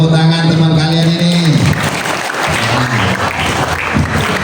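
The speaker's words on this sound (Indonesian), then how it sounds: "Kasih tepuk tangan teman kalian ini." Applause from an audience at an Islamic religious gathering for Isra' Mi'raj breaks out after a musical tone and continues as a steady, fairly loud clatter of many clapping hands.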